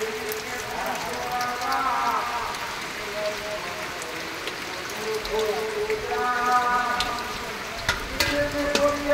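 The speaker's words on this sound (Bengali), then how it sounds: "বৃষ্টির জল পড়ছে প্যান্ডেল দিয়ে টুপটাপ করে" Rainwater dripping through a pandal roof into basins, a continuous patter of drops under steady rain, with people talking over it.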